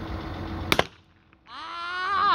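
A single sharp report from a .38 Super pistol fired at a target 50 yards out, loud and close, followed by quiet and then rising outdoor noise.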